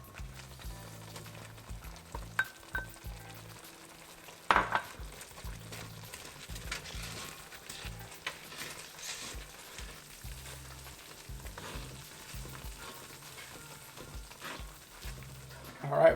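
Green peas (matar) simmering with coriander powder in a brand new kadai while cooking matar paneer, a soft steady bubbling sizzle at low level with occasional brief clatters and a louder stir-like bump.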